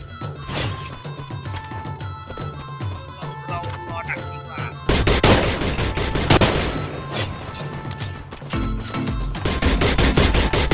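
In the Free Fire video game, gunfire crackles in repeated close bursts and single sharp shots. A louder rattling volley breaks out midway, and excited voices shout over the shooting.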